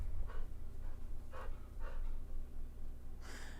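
A dog pants quietly in short rhythmic breaths, several evenly spaced puffs over a low background hum.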